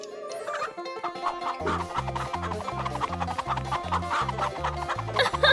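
A voice imitates a chicken clucking in a Poppy Playtime Chapter 3 game scene, playful bursts over a steady rhythmic music beat.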